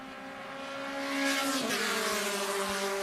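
Mazda MX-5 Cup race cars sweep past at Mid-Ohio Sports Car Course, a loud, steady engine drone that swells as a car closes in and holds strong, with a rising pitch sweep as one goes by.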